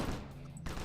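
Burst of PPSh submachine gun fire in a first-person shooter, dense rapid rattling at the start, a brief lull, then another burst near the end, loud and close.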